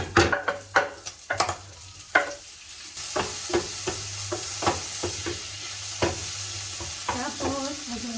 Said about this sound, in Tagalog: Gisa na natin yung bawang, sibuyas, and kamatis